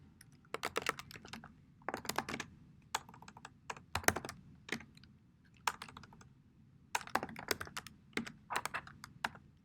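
Typing on a computer keyboard while entering an MLA-format header in a Google document, with quick bursts of crisp, close key clicks separated by short pauses, quiet and with no talk.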